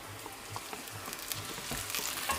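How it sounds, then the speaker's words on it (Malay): Sambal tumis sizzling and frying steadily in a pan after being poured in over wilted onions, a continuous close crackle with small bursts and spatters throughout. "kita pun tuangkan sambal tumis mak kita"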